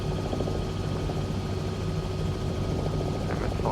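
A Robinson R66 helicopter in Microsoft Flight Simulator 2020 on a scenic flight over Sydney hums with a steady, dense rotor and turbine drone that stays even throughout, with no talking.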